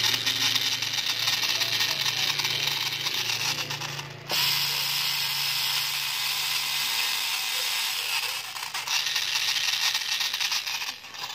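A 775 DC motor driving a motorcycle starter reduction gear whirs at a steady high pitch with a gritty mechanical rattle, close and loud, briefly dipping and restarting midway before running on evenly.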